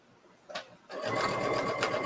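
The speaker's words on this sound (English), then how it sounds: "Do a little backstitch." A sewing machine backstitches a seam. After a brief whir and a short pause, it runs in a steady, fast, close-up stitching burr for the rest of the moment.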